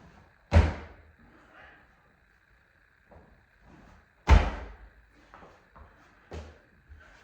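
Feet landing from plyometric jumps during a beginner workout, with three or four heavy thuds spaced a few seconds apart and softer shuffling between them, close and with no talking.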